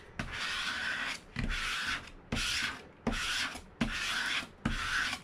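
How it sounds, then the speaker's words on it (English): A scraper tool drags across a surface in six even strokes, each a loud rasping scrape of about half a second separated by short pauses, close and alone. "Use our scraper tool."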